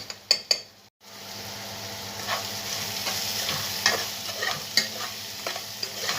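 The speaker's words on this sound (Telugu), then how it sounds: "ఇట్లా చూసారా రొయ్యలు ఉల్లిగడ్డ మొత్తం ఫ్రై అయిపోయినాయి." Prawns and onions frying in a pan with coriander powder, turmeric and salt, a steady close sizzle broken by a few sharp utensil taps at the start and repeated scraping stirs against the pan.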